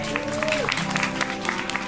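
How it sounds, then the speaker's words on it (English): A crowd of fans at a StarCraft 2 GSL tournament cheering and applauding in a hall, a steady roar of clapping under a commentator's voice. "A lot of fans here cheering him on."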